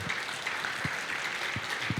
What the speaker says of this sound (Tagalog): Palakpakan natin ang ating Panginoon.